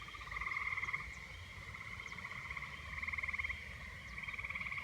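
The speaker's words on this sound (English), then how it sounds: "All you hear are the frogs and crickets singing to you all night long." Frogs croak at night in rapid trilling bursts, several overlapping calls rising and pausing in a rhythmic chorus, moderately distant with faint insect chirps in between.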